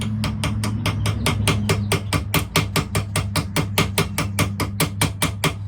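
Steady rhythmic hammer blows peening a stainless steel pin head on a knife being restored, a vintage 1958 Camillus, struck quickly and evenly about four times a second, close and loud with metallic ring.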